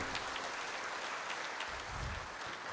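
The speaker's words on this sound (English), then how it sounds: "Big round of applause for them." An audience claps at a ceremony marking the first ONGC crude receipt at MRPL in Mangalore, a steady, even wash of many hands clapping throughout, fairly faint and without talk.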